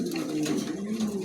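A pair of red Pomeranian pigeons coo softly and steadily in a loft, with a low, continuous warbling murmur that stays even throughout.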